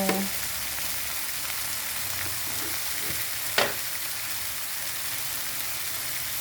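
Fish frying and sautéing in a pan, a steady close sizzle running throughout with a brief clatter of a utensil partway through and no talking.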